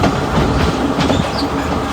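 A passenger train on the Ella mountain line in Sri Lanka pulls away, its steady rumble and rhythmic clickety-clack of wheels filling the carriage loudly and continuously, with no talk.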